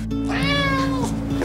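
A stray cat gives one clear, drawn-out meow with a rising and falling pitch, close and loud over a faint steady background hum.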